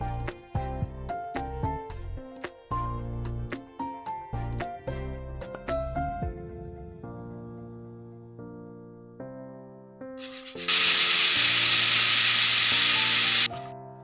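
A pressure cooker cooking barley lets out a single loud, hissing steam whistle lasting about three seconds, following a stretch of background music.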